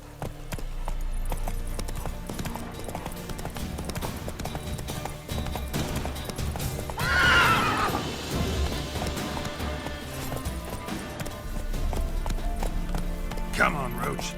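Roach, Geralt's horse in The Witcher 3 on PS5, gallops with continuous rapid hoof clip-clop and a short whinny midway, loud and steady over game music and a voice.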